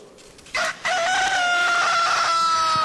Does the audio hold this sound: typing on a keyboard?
no